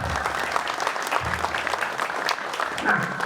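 A crowd at a religious gathering in Jakarta claps together in continuous, moderately loud applause, dense and even with a few louder bursts.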